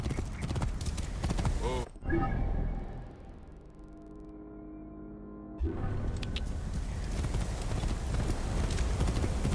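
Horses galloping in the video game Assassin's Creed Origins, a steady rapid clip-clop of hooves with a neigh, running under game music with a brief spoken exclamation.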